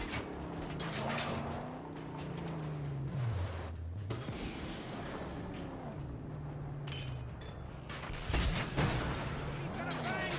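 Rapid gunfire bursts in the Mad Max video game, firing near-continuously across a busy mix of engine rumble, music and clatter, with a louder blast late on; voices talk over the action.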